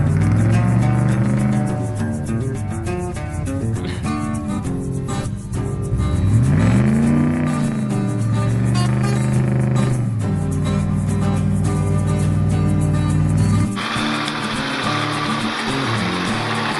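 Off-road 4WD engines, two GQ Patrols recovering a D22 Nissan Navara on a hill, drone loudly and continuously, with a rising then falling rev midway and a shift to a quieter, hissier tone near the end.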